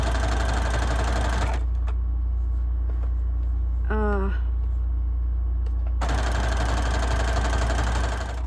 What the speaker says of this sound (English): we're just going to sew along this edge. The zigzag stitch is going to show.